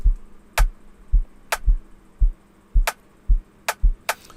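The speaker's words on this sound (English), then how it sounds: "Then next I added this rim," Sharp, bright rim clicks snap in irregularly over a steady pulse of deep electronic kick thumps, dry and close in a sparse amapiano beat.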